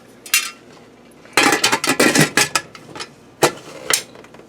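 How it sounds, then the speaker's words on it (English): A metal lid is set onto a stovetop pressure cooker, with clanks and clinks close up in a busy cluster between brief pauses, and no talking. "I'm going to get my lid on here."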